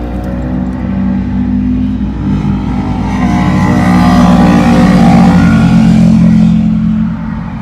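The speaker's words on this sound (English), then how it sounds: "Motorcycles." Motorcycles rumble past outdoors during a trad climbing gear placement, a loud, steady engine drone that swells slightly and fades near the end, with no talking.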